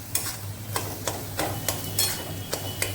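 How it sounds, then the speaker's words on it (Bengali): Jackfruit seeds fry in a pan with salt and turmeric under a steady low sizzle, while regular scraping stirs come about twice a second, near and clear, with no voices. "তো এই লবণ আর হলুদটা দিয়ে আমি আরও 2 মিনিট মতন ভেজে নেব"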